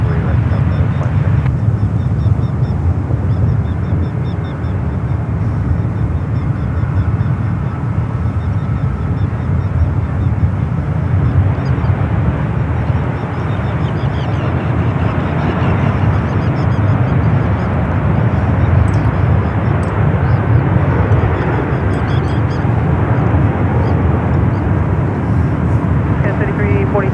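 An airliner landing at San Francisco SFO airport roars broadly and continuously, a loud sustained engine rush with talk running over it.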